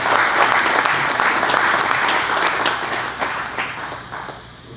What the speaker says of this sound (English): big round of applause for my friend